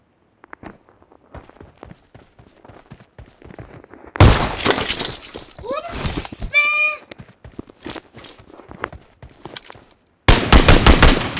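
Gunfire in a video game with a pump-action shotgun, loud bursts of shots at the start and end, separated by quicker footsteps and lighter game noises, with brief voices in between.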